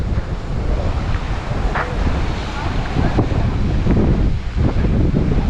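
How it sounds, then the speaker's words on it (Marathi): Steady rushing surf and spraying water at Hedvi beach near Bamanghal, Guhagar, fill the clip, with gusty wind buffeting the microphone throughout; no clear speech. "आता पाणी उडतंय काय"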